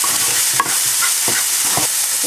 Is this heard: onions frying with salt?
yes